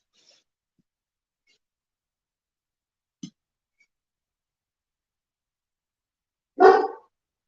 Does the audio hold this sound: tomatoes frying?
no